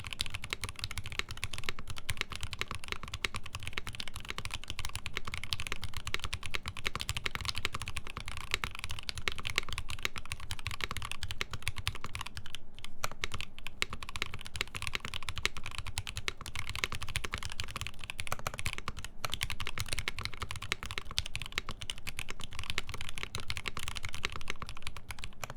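Rapid, continuous keystrokes clatter on a custom-built keyboard during a typing test, a dense, even stream of close clicks lasting the whole stretch with no talking.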